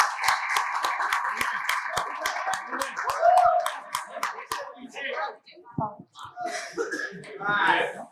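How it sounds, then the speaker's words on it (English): Audience at a film launch event clapping in a brisk, fairly even burst for the first few seconds, then fading into scattered voices, a cough and light chatter. "We can quadruple the round of applause."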